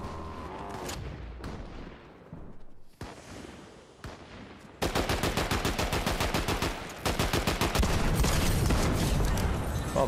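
A modified AR assault rifle in Fortnite, fitted with red dot sight, speed magazine, angled foregrip and muzzle brake, fires a few scattered shots and then long rapid bursts, loud and close, with no talking.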